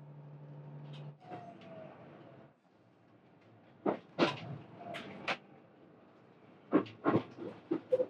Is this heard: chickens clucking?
no